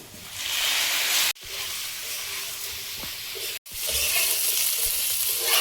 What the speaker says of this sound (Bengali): লোহার কড়া তাড়াতাড়ি গরম হয়। পটলটা ভেজে নেব সঙ্গে।